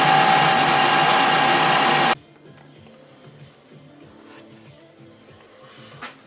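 A metal lathe cuts an adapter for a wood lathe chuck, a loud, steady, high-pitched machining whine that stops abruptly after two seconds and leaves faint workshop noise and distant birdsong.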